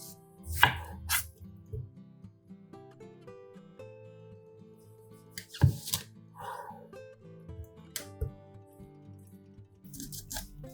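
A knife chops an onion finely on a board, giving a few sharp isolated thunks separated by quiet stretches, with faint background music underneath.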